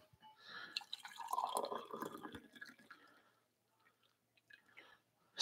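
A Moccamaster coffee maker drips brewed coffee into a cup, giving soft, irregular liquid drips and trickles that thin out and fade, with a brief louder knock at the very end.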